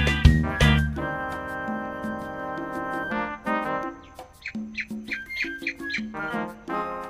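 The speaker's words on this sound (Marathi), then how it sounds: "बघा ना वरती पक्षी पण ओरडत आहेत." Birds in the trees of a plant nursery give sharp, repeated chirps and short whistled calls at moderate distance, over sustained tonal sounds and background noise.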